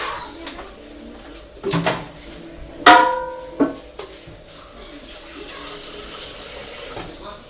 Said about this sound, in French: je vais rajouter une cuillère d'eau